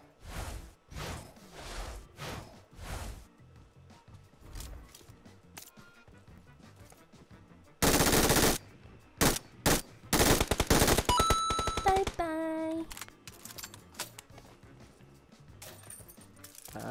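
Bursts of gunfire from a mobile shooting game, with rapid automatic volleys and single shots, a loud dense stretch in the middle, and game effects and rising tones following.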